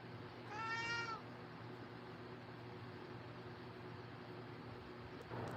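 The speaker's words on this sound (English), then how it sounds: "Meow." A cat gives one clear, drawn-out meow early on, then only steady low background hum and hiss follow.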